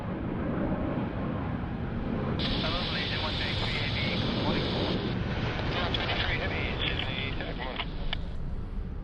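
Airliner at Sydney Airport landing on runway 34 right, a distant steady jet roar blended with wind buffeting on the microphone while people talk over it.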